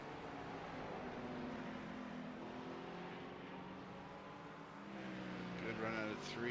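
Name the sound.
GT3 race cars Ferrari, Lamborghini, BMW in racing game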